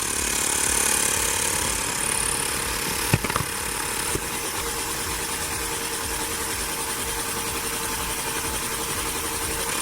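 Xiaomi and Baseus portable electric pumps run together inflating bicycle tires, a steady loud motor drone with a buzzing rattle throughout, a couple of brief clicks partway, no talk.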